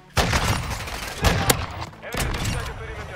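Video game gunfire crackles in several rapid, loud bursts of automatic fire, close up, with brief pauses between volleys.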